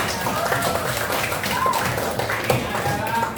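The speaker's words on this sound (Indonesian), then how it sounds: "Tepuk tangan dong buat" Indonesian third-grade class clapping for a pupil named Lintang, a steady patter of many small hands through the whole stretch, under a talking voice.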